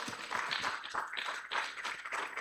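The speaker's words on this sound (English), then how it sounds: "May we give Tunde a big round of applause?" Audience claps for a speaker at a schools championship launch event, a soft, fairly distant wash of hands that rises and falls, with a hint of voices in the background.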